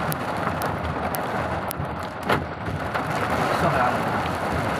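Rain falls steadily at a beach on the shore of Morib, a broad hiss of drops with wind buffeting the microphone, while people talk briefly nearby.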